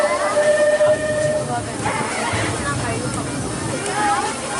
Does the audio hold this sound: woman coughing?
no